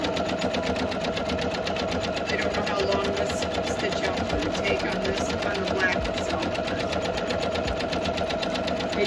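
A Janome MC230E single-needle embroidery machine stitches an anchor design on a baby bodysuit, giving a steady, fast, even mechanical whir and ticking throughout, close and continuous.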